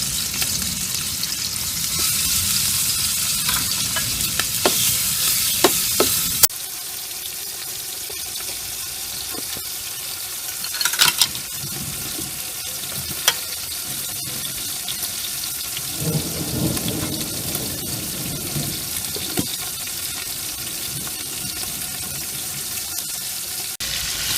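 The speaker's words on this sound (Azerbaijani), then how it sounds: "Belə bütün şəkildə də qızardıram." Lamb pieces frying in a pan for pea pilaf give a dense, continuous sizzle with occasional utensil clinks. Running water from a tap joins partway through.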